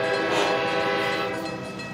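A loud, sustained horn blast with a rich, steady tone, resembling a train horn, holding throughout and slowly fading slightly toward the end.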